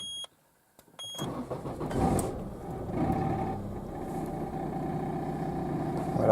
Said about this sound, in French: Allez, on démarre le moteur.